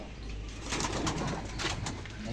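Pigeons at a breeding loft give soft, low cooing, faint and a little distant, in a few repeated swells over steady background noise.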